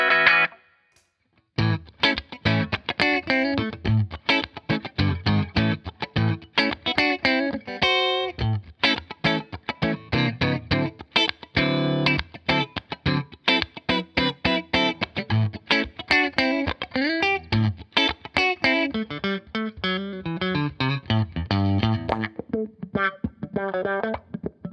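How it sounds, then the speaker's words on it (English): Telecaster electric guitar run through a Qtron envelope filter, playing a steady run of funky, quacking picked notes and chords with a wah-like sweep, loud and close, with no voices. "I'll do a little bit here with the Qtron envelope filter."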